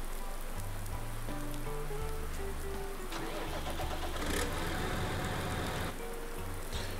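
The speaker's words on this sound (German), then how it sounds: "Ja, immer noch Regen." Steady rain patters in the farming game Landwirtschafts-Simulator 19, a constant hiss under a low tractor engine hum and a sustained music-like drone, heard without talking.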